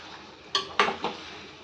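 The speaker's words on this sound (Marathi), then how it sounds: "त्याच्यामध्ये हे आपले आंबे घालायचे मिक्स करून घ्यायचे" Mango pieces stirred in a pot with jaggery and tamarind for mango raita: two or three short spoon clinks and scrapes against the pot, close and fairly soft, with no talking.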